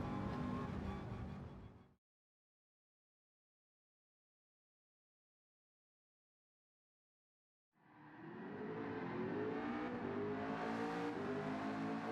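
Ford GT LM Race Car Spec II drifting in Gran Turismo 7, a loud engine roar with revving and tire noise that cuts off into several seconds of silence, then returns strongly.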